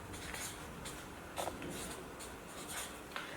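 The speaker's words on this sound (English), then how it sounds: "Then I go and write my fraction as a new fraction" Pen writing a fraction by hand on paper, steady soft scratching strokes with brief pauses, close and quiet, no voices.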